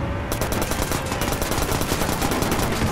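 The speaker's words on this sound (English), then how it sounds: "Is that fire someone's gun?" Sustained rapid automatic gunfire in a video game armored truck match, dense loud bursts filling the whole stretch with no pause and no talk.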